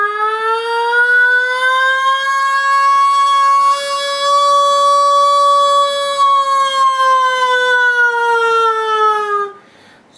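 A human voice imitates a nuclear alarm siren, one long loud sustained wail that rises slightly, holds steady for about nine seconds, then drops away abruptly.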